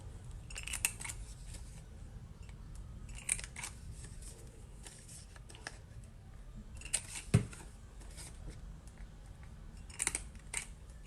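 Scissors snip repeatedly at the corners of a paper bookmark, crisp close clicks spaced a few seconds apart over a quiet low hum.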